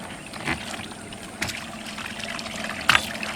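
A homemade boat built from a 100-litre oil can sits on the water, with a gentle continuous trickle and lapping broken by three brief splashes, close by.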